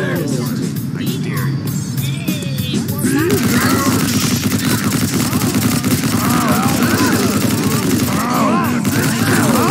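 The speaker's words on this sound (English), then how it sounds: "Assault rifle." Assault rifle gunfire in the video game POOSTALL Royale comes as loud, rapid bursts of automatic shots that continue steadily for most of the clip, with chatter and other game noise underneath.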